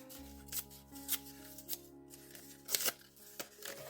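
Soaked paper is torn by hand into pieces for a craft project, giving soft, papery rips and rustles in short bursts, close and fairly quiet, with no talking.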